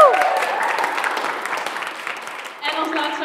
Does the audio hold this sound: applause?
yes